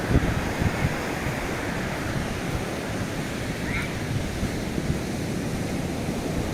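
Sea waves surge and wash continuously against the shore, a broad, steady roar with some wind buffeting the microphone.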